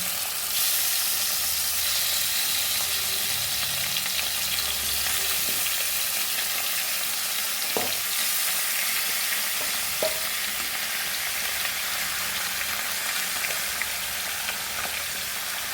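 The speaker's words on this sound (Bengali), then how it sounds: "চিকেনগুলোকে ভালো করে ভাজবো" Chicken pieces fry in a pan with whole spices for a Hyderabadi chicken curry, giving a steady, close, even sizzle that carries through the whole stretch, with a couple of faint utensil clicks and no voices.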